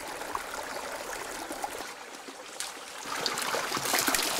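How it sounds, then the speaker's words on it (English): Stream water flows near simple huts at a spartan rural lodge in Sweden, making a steady, close gurgling rush that continues without pause and grows slightly louder toward the end. "I like the sound, like water that flows."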